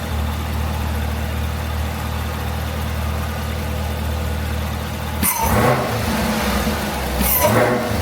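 A car engine idles steadily, then revs sharply twice, bringing out a louder whine from a Roto-Fab cold air intake fitted to it.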